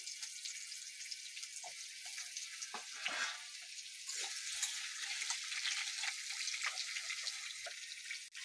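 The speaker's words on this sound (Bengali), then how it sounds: "সামান্য নুন দিয়ে ভেজে নেবো আলুটা।" Long potato strips frying in oil with a little salt, a steady bright crackling sizzle with scattered pops and faint stirring, close and continuous throughout.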